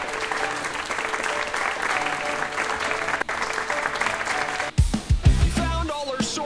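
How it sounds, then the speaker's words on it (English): Applause from a video game's crowd rings out steadily after a badge is earned, dense and even for several seconds, then breaks off into musical tones as the clapping ends. "Everybody's clapping."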